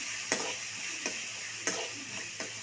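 A spoon stirs salt and a pinch of turmeric into onions and tomatoes frying in a pan for tomato upma, giving a steady soft sizzle with four sharp scrape-clicks spaced about every half second to second, close and without talk.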